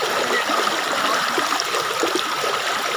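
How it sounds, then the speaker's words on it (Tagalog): Water bubbling up from a spring on an eco farm, a steady close trickle and gurgle that runs continuously with no pauses and no voices. "Ubok sa tubig."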